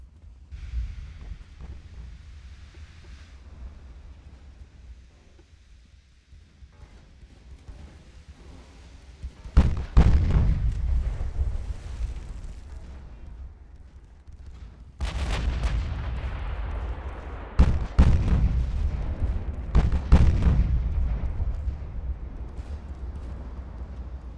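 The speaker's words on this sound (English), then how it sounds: "They're firing at our destroyers." Naval gunfire from warships shelling destroyers in Ultimate Admiral: Dreadnoughts, heard as several heavy booming salvos with long rumbling tails over steady wind and sea noise, the later blasts louder and closer.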